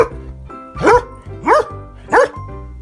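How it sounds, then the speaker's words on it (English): A dog barks three times in an even rhythm, each bark sharp and close, with short quiet gaps between them against a faint steady background. "Dog."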